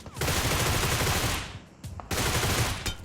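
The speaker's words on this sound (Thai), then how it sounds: "ทำไมมันยิงแรงจังเลยอะ" Rapid automatic gunfire from a Groza rifle in PUBG, loud dense bursts in two long volleys broken by a short pause, close and continuous with little else heard.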